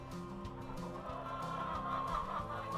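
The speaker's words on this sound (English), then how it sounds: "Here's my 40 hens that I started with." Dozens of hens cluck and chatter inside a chicken coop in Montana, a close, busy overlapping flock murmur with scattered sharper clucks, steady throughout.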